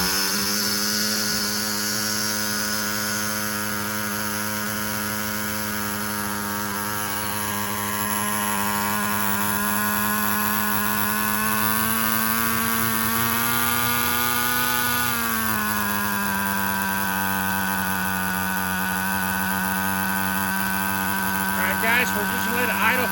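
A small HPI RS4 RTR3 nitro RC car engine, just started for the first time, idles steadily with a continuous high buzzing drone that dips slightly in pitch midway, loud and close throughout.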